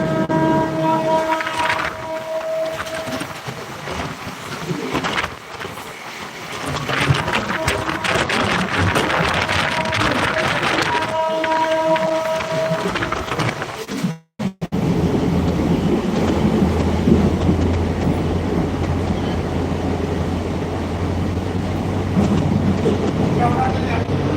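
A passenger train on the Ahilyanagar to Beed line rolls along near Rajuri station toward Beed, a sustained rumble with rattling, a brief dropout midway, then a steady low drone.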